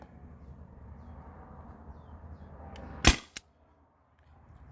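A modded Byrna TCR launcher fires homemade slugs in one sharp, loud crack, followed a moment later by a smaller snap, over a low steady background hum that drops away afterward.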